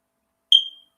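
A smoke alarm gives a single short, piercing high beep that stands alone in silence and fades quickly.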